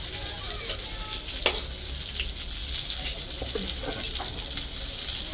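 River poa fish fry in hot oil with a continuous, close sizzle and crackle, broken by occasional light scrapes and clinks from stirring.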